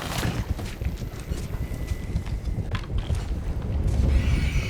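A monster in the Resident Evil 7 video game walks with heavy, rhythmic thudding footsteps over a dense rumbling game background that persists throughout.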